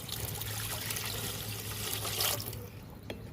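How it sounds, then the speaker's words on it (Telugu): Water is poured from a measuring glass into a cooking pot to make bagara rice. It gives a steady trickling splash that fades out near the end. "ముందుగా వాటర్ పోసుకుంటున్నా కొలతల కొద్దీ"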